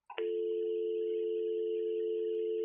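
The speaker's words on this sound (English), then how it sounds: "Now press hook and listen for dial tone." A Brother MFC-J5855DW fax machine gives a short click and chirp when the hook is pressed, then a steady continuous dial tone holds at even volume.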